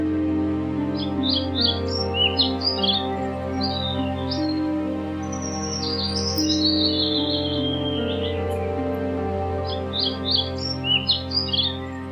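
Birdsong from an animated Hindi folk tale: short bursts of bright chirps and tweets recur over sustained background music, fairly loud and clear, without speech.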